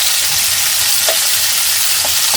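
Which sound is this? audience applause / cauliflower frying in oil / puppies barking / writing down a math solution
cauliflower frying in oil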